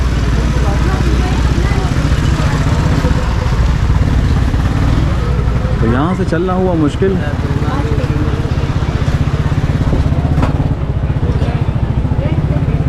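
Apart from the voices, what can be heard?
motorcycles idling face to face in a narrow street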